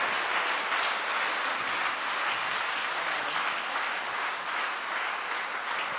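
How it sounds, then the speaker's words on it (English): A church congregation claps hands together in sustained, dense applause, loud and steady throughout with no pauses. "Let's add Jesus a mighty hand clap."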